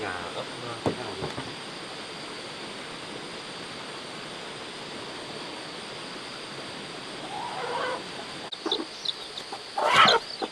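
A hen clucks in a coop where chicks are hatching; after a long stretch of low steady background hum, a few short clucks and chick sounds rise near the end, close but fairly soft.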